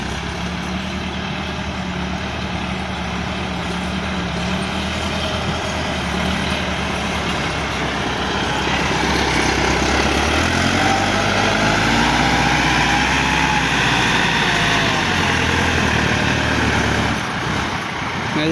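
A Massey Ferguson 385 tractor strains to pull a trolley fully loaded with soil out of a stuck spot, its diesel engine droning steadily, then revving louder with a rising, falling pitch midway before easing off.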